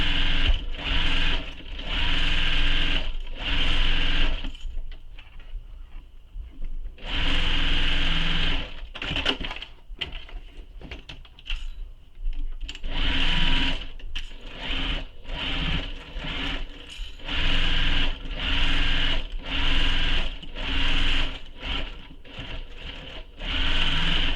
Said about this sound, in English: don't forget to back stitch at start and stop